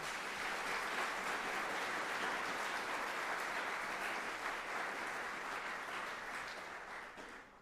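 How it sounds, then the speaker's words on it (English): A university audience at a fall semester opening session gives sustained applause. The dense, even clapping holds steady for several seconds and then slowly fades, with almost no voices. "So a round of applause for everybody here."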